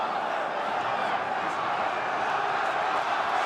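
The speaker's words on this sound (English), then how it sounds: "And the crowd getting into it now. Yells of Amir, home support in abundance" A boxing arena crowd roars and yells in support of home fighter Amir Khan during his bout with Julio Diaz, a dense sustained wall of cheering voices.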